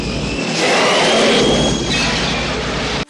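The Airwolf helicopter's turbo engines spool up in a dense, loud jet-like whine with a high steady tone, rising quickly and holding for a few seconds before cutting off abruptly.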